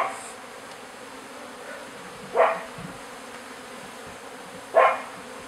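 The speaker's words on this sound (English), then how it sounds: "these bees that haven't found their way into the bottom entrance are just confused right now" Honey bees buzz around a newly installed hive in New England, a steady close drone with two brief, louder swells as single bees fly past.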